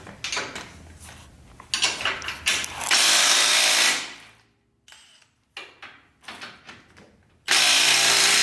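A power tool, likely an impact wrench, removes 18mm bolts from the lower and upper radius rods of an ATV during a knuckle install, running in loud sustained bursts with short clicks and clunks of handling between them.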